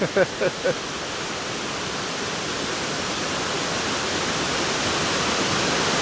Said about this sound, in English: Very nice waterfall. There's a lot of water for this late in the year.